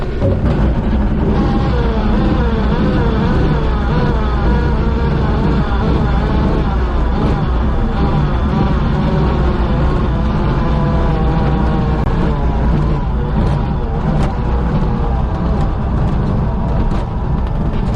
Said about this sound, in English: We're going to sort of touch down just halfway down the runway and then sort of roll on towards the end.